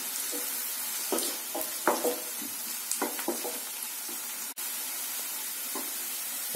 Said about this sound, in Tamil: கூடவே கொஞ்சம் கருவேப்பிலை இதெல்லாம் சேர்த்துட்டு ஒரு டைம் லைட்டா வதக்கிடுங்க